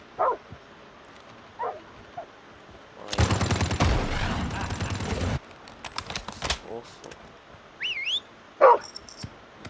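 An attack dog in Call of Duty Mobile barks and snarls a few times, interrupted by a dense burst of rapid gunfire in the middle.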